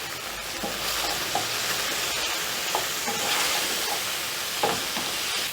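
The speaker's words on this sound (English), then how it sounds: "Stir in the spices." Mutton liver sizzles steadily in a hot pan while spices like pepper, paprika, garlic powder, turmeric and cumin are stirred in, with occasional scraping clicks of the spoon over the constant frying hiss.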